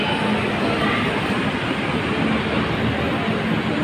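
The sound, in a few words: LRT light rail train passing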